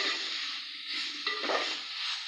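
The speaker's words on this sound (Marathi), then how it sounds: "भाजी मस्त अशी परतून घ्यायची चांगली" Ivy gourd (tondli) being stir-fried in a pan, a steady broadband sizzle with a few soft scraping stirs of the spatula, close and continuous with no voices.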